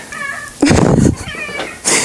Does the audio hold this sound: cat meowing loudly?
yes